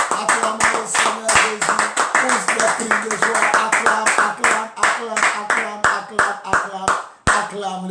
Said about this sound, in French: J'aimerais qu'on acclame le Seigneur Jésus. Acclamons le Seigneur Jésus